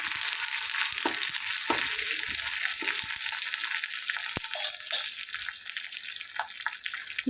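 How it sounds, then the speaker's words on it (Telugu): Tempering spices and curry leaves sizzle in hot oil for a raw tamarind rasam, a steady, close, hissing crackle that runs without pause, with a few light clinks of a spoon. "ఆయిల్ హీట్ అయింది ఇందులో పోపు దిన్సులు వేసుకుందాం"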